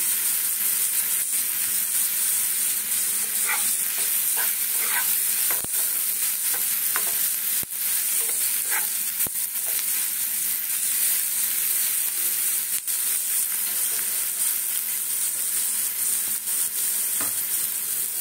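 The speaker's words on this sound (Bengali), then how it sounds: "এই একসঙ্গে কাজুটা দিয়ে দেবো, ভাজা হয়ে যাবে তাহলে।" Cashews frying together with flattened rice pulao in a pan, a loud, constant hiss of frying oil with occasional light stirring clicks, close by and without speech.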